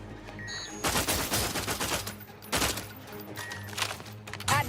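Automatic gunfire from a weapon in the video game The Outer Worlds 2 rattles in sustained bursts over a low game soundtrack, with a short gap between volleys.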